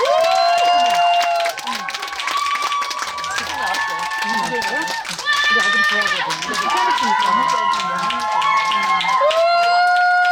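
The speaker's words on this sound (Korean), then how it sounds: "여러분 큰 박수로 맞이해주세요" A concert crowd claps and cheers loudly, with excited high-pitched shouts and whoops rising over a dense bed of applause throughout, welcoming a guest singer on stage.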